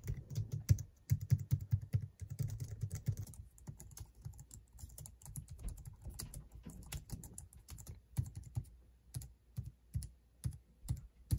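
Quiet, low-profile keys on a Logitech MX Keys wireless keyboard are typed in continuous soft clicks and taps, with short bursts and pauses, close and faint, and no talking.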